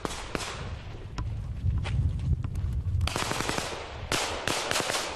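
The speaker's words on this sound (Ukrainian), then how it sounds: "під клекіт автоматів та вибухи мін бійці вертаються з передової без втрат" Bursts of automatic rifle fire crackle in rapid volleys, with heavier booms of mine explosions mixed in, loud and close, at a front line in Ukraine in 2014.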